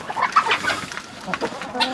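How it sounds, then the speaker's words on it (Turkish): Blue crossbreed rooster on a farm, giving a few short clucking calls close by over light background farmyard noise, with no crowing. "Mavici güzel bir horoz."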